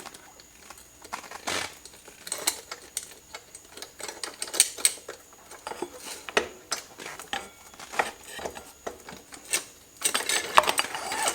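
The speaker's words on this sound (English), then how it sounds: "I'm going to take my chain off the sprocket." On a Honda Monkey's rear wheel, a metal chain is worked off the sprocket with irregular light clinks, rattles and ticks, close and fairly faint, swelling into a busier metallic rattle at the end.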